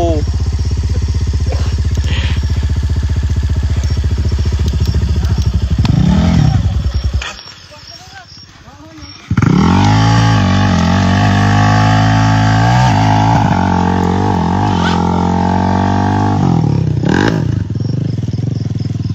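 Motorcycle engine revving loudly up close, a throaty throttle rising and falling, briefly cutting out before roaring back with repeated revs; people talk over it.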